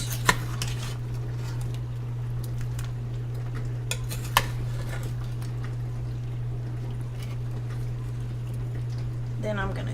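Metal utensils scrape and clink against a pot of simmering candied sweet potatoes being turned, over a steady hum, with a few sharp clanks spread across the clip.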